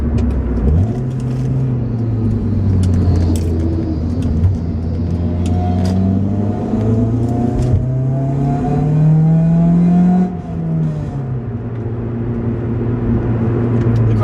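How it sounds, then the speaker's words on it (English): An Acura RSX engine heard from inside the car during a heel-and-toe downshift, with loud, steady droning engine tone that dips, blips up sharply and settles at new pitches as gears change, continuous throughout with no talking. "We're going to go ahead and heel and toe downshift."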